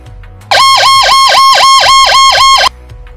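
An emergency vehicle siren sounds the tone used for crossing intersections: a loud, fast, repeating warble cycling about ten times in two seconds, close and alone.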